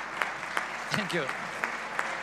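Scattered audience clapping before a show begins, a thin, even patter of hands heard under a voice, who talks briefly over it.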